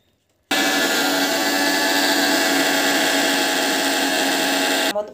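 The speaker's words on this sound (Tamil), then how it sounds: "அப்படியே வந்து மிக்ஸியில் அரைச்சிட்டு" A mixer grinder grinding greens starts abruptly and runs at a steady, loud, high whine for several seconds, then cuts off near the end.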